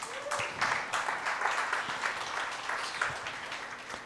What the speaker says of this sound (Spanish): Un aplauso, Dani.